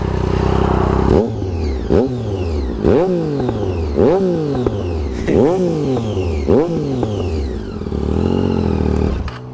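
A Triumph Street Triple fitted with a Racefit Growler straight-pipe exhaust revs hard about seven times in a steady rhythm, each blip rising sharply and falling back, loud and close, then settles into a rumbling idle.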